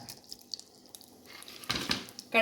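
Mustard seeds spluttering in hot coconut oil in a frying pan on a stove make soft, scattered pops and crackles that build into a denser burst toward the end, with no talk.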